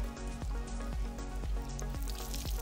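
Eggplant slices fry in hot grease with a steady close sizzle, crackling pops scattered throughout and a few sharper spits, no talking.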